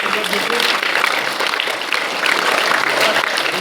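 A school crowd claps loudly and continuously at a prize distribution ceremony, a dense, even wash of applause with voices mixed in beneath it.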